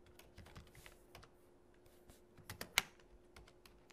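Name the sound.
typing code on a computer keyboard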